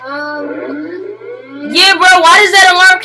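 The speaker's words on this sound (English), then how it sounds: "why does that alarm keep going off?" A video game alarm wails with a rising, siren-like tone, then gives way to loud, overlapping voices of players talking close to the microphone.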